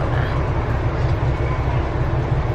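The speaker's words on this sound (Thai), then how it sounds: "ตอนนี้เราก็อยู่บนรถไฟ JR แล้ว" Inside a moving JR train in Japan, a loud, constant low rumble of the carriage on the rails fills the space with steady road-like roar and faint rattles, no voices.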